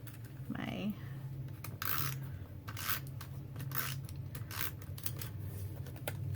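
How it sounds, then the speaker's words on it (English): Tape runner adhesive rolled across curled watercolor paper for a card, heard as several short dry rasping and ticking strokes over a steady low hum, fairly quiet and close. "tape runner adhesive"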